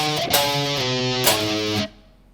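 Distorted electric guitar plays a bridge riff slowly, two heavy palm-muted phrases with sharp attacks, loud and close, cutting off abruptly at the end.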